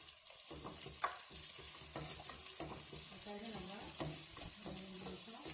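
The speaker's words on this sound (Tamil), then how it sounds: "இப்போ வெங்காயம் நல்லா வதங்கிடுச்சு. நம்ம தக்காளி கட் பண்ணி வச்சுருக்க தக்காளி சேர்த்துக்கலாம்." Onions and tomatoes sizzle and fry in a pan for a simple Tamil buttermilk curry, with steady crackling and a spoon scraping and stirring through them, close and continuous.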